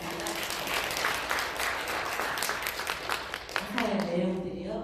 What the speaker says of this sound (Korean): 다 같이 한번 박수 해주시면 감사하겠습니다